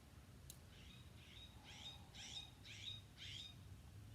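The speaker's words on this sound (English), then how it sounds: "Can you hear the birds out here?" Faint birds call outdoors in a repeated series of five or six short squawking chirps at a steady pace, distant over a soft background hiss.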